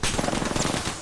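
Rapid automatic gunfire in Apex Legends, a dense continuous burst of shots firing at a fast steady rhythm, loud and close with no talking over it.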